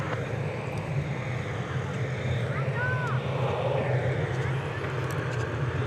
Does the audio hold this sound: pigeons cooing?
no